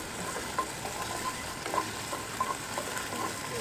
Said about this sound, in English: So just cooking this okra.